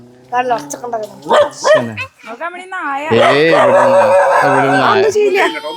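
A dog barks and yelps close by, mixed with people talking nearby.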